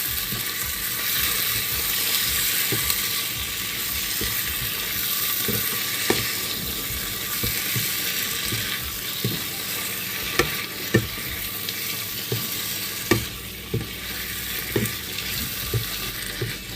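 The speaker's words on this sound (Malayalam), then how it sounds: "ഇനി നമുക്ക് ഇതിനകത്തേക്ക് 2 ടേബിൾ സ്പൂൺ തൈര് ഒഴിച്ചു കൊടുക്കാം. ഇതെല്ലാം നന്നായിട്ടൊന്ന് മിക്സ് ചെയ്യാം." Tomato and yogurt are stirred into a sizzling masala for Thalassery chicken dum biryani, with a constant hiss of frying under sharp, sporadic clicks and scrapes of the spoon against the pot.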